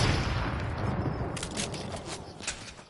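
Sniper rifle fire in a video game, a steady wash of loud gunfire with several sharp crack-like bursts in the latter half, no talking.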